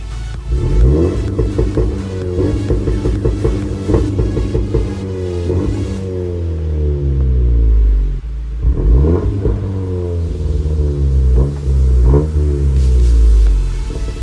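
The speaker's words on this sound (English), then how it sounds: "Now I'm gonna go ahead and rev it up and watch this boost gauge." A modified 2019 Honda Civic Sport's engine, heard from inside the cabin, revs repeatedly, climbing and falling in pitch with loud rumbling surges between brief dips.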